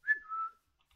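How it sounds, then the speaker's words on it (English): One short whistle from a person in a survival game, a clear tone that slides downward and stops after about half a second, followed by silence. "Dude, it looked like you whistled."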